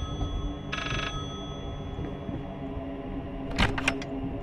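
A telephone rings in the horror video game Layers of Fear, a short electronic trill followed a few seconds later by louder repeated rings over low game ambience, with no talk.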